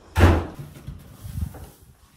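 An apartment door in a fourth-floor penthouse hallway bangs shut with one sharp, close thud, followed by a few softer rattles and knocks of the latch settling.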